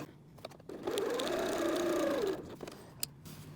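Sewing machine running a gathering row of stitches through fabric, a steady mechanical whir for about a second and a half, close and clear, with small clicks before and after.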